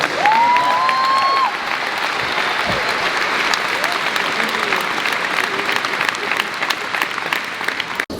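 An audience claps during a motivational talk by Coach Prime, a steady wash of applause for the whole stretch with a brief whistle-like tone near the start.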